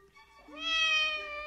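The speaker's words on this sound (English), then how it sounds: "This, this cat, I know you want your breakfast" A single drawn-out cat meow, close and fairly quiet, rising in pitch and then holding, with nothing else around it.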